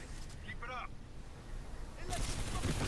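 Rapid auto pistol fire in a shooter video game: a muffled, rumbling stretch with a brief voice-like sound gives way to a dense, loud burst of overlapping shots near the end.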